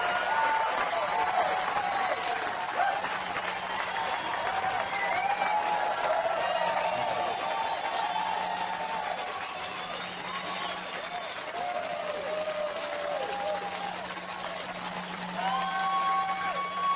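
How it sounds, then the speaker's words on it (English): A crowd at a motivational speaking event applauds at length, sustained clapping mixed with scattered cheers and whistles that swell and ease over many seconds. "Give yourselves a round of applause."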